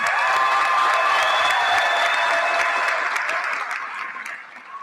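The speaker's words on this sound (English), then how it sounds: "Please give them a round of applause." Applause and some cheering from a middle school graduation audience for the student welcome speakers, full and sustained at first, then gradually thinning and fading toward the end.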